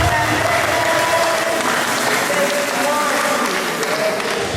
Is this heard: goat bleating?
no